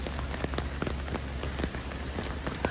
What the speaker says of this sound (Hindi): काफ़ी तेज बारिश, नीचे देखो यार